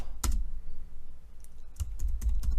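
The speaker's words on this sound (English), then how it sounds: "I want to type in here" Typing on a computer keyboard, a few sharp key clicks in quick scattered bursts, close and fairly crisp against a quiet background.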